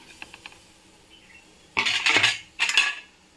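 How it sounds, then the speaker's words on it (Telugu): Freshly ground raw coconut is added from a mixer jar into a pan on the stove for coconut laddu, heard as two short bursts of scraping and clattering after faint taps, no voices. "మనం మిక్సీకి వేసుకున్న పచ్చి కొబ్బరి వేసుకుందాము"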